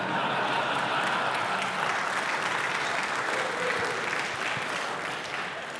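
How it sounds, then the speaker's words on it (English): A church congregation applauds during a Sunday sermon, a dense and steady roll of clapping that carries on for several seconds before tapering slightly at the end, with no voices over it. "That didn't get as loud of applause as I hoped for."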